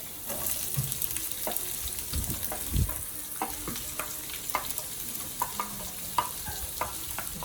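Onion sizzles in a pan for pancit while a wooden spatula stirs it, with a steady frying hiss broken by frequent scraping and tapping clicks.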